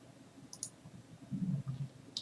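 A computer mouse gives a couple of faint, quick clicks at close range, with soft low room noise and a brief murmur underneath.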